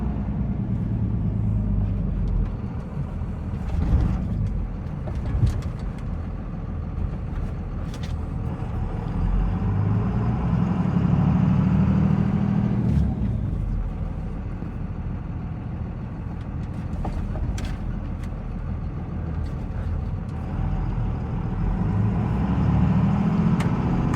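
A restored 1998 Dodge Ram 2500 with a Cummins diesel drives down a street and rolls over a speed bump, its engine rumbling steadily up close with brief soft knocks and no rattling.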